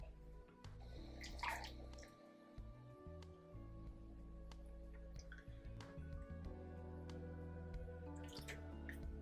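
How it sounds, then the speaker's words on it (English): Water drips and splashes as braiding hair is lowered into boiling water, with scattered drips and a steady low background hum. "I'm gonna dip this hair into the boiling water"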